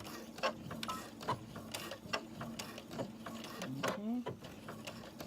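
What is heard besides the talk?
sewing machine back tacking while sewing a zipper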